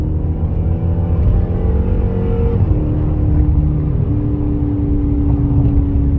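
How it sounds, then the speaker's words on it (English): A Dodge Charger widebody with a 5.7 engine and a throttle booster roars loudly and close as it accelerates, a dense, steady engine drone whose pitch shifts as it changes gear. "Like, I tap the throttle a little bit, and it downshifted because it's ready to go again."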